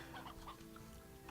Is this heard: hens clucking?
yes